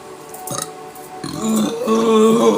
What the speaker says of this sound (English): I do not apologize for burping anymore.